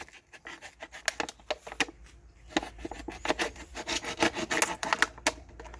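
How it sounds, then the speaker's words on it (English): A plastic bottle worked by hand with simple nails to pierce holes and then a blade to cut off its bottom, giving irregular scraping, scratching and snipping sounds in close, uneven bursts with no voices. "they are using just simple nails to drill holes into the bottle, then cut the bottom of the bottle"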